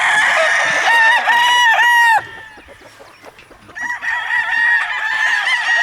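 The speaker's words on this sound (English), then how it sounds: "That's a beautiful rooster right there." Roosters at a gamefowl farm with white-legged birds crow loudly twice in close succession, long drawn-out calls, then a quieter gap with faint clucking before another crow begins, with no talk over them.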